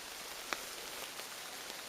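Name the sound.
rain falling on hiking trail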